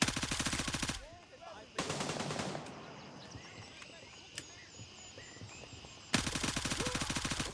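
Bursts of rapid automatic gunfire in a Gray Zone Warfare firefight: a near, loud rattling volley, a pause with faint ambience and a single crack, then two more sustained bursts.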